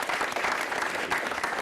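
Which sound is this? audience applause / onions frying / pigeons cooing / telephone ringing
audience applause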